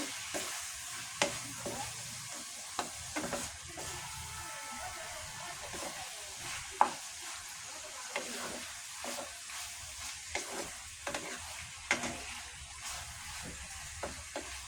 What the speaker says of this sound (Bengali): এভাবে গোল মাংসটা কষিয়ে নিব